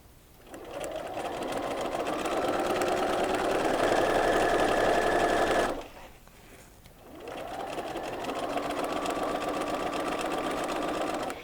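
Sewing machine stitching quilt strip sets, a close, steady motor whir with rapid needle clatter in two long runs separated by a brief pause.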